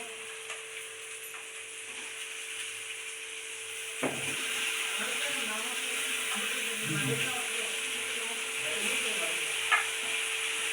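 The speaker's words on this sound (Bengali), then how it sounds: "মাংসটা এই কষা হচ্ছে" Chicken pieces sizzle in a pan while being cooked down for biryani, a steady frying hiss with intermittent scraping and stirring clinks of a utensil, and a faint voice in the background.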